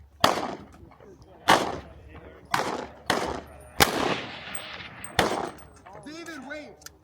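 Several sharp gunshots crack at a shooting range, spaced a second or so apart, loud and close with short echoing tails, while people talk quietly between the shots.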